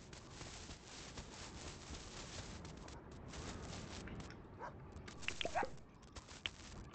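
Dogs in the Australian farming video game Dinkum bark and yip faintly amid steady ambient game noise, a few sharp yelps clustering near the end.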